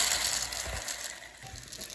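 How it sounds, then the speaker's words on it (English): Dry rice grains pour steadily into a balloon to fill it, a continuous close granular hiss and rattle with a few soft thumps, no voices. "Now the magician is going to be filled up with rice."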